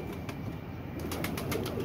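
Pigeons cooing on a rooftop loft in summer heat, a steady soft murmur of coos with faint fluttering, close and continuous with no talk.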